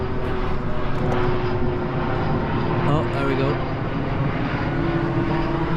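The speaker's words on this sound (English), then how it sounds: "There's a plane coming in." A propeller airplane drones overhead in Ibiza, a steady engine rumble filling the background while a person speaks briefly.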